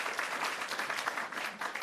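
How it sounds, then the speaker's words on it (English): Audience at a town hall with the mayor applauding steadily, a dense wash of many hands clapping throughout with no voices over it. "Let's give him a round of applause for that."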